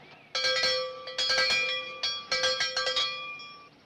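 Old-time bell clanging as a work start signal, a series of bright metallic strikes ringing out with sustained harmonic tones, loud and close, in quick irregular bursts.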